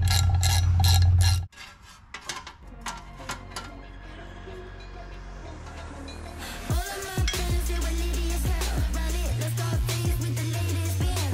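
Ratchet clicks from tightening bolts on a 1965 car during a transmission mount install: a louder mechanical burst first, then quieter clicking and metallic rattles running on.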